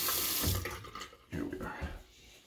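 Water runs from a bathroom sink tap during a wet shave, a steady close splashing stream that swells and shifts as hands or a brush pass under it.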